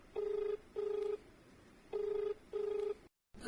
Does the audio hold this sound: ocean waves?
no